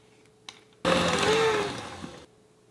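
An electric mixer whirs into vegan vanilla frosting in one loud, steady burst of about a second and a half, its motor pitch shifting slightly before it cuts off.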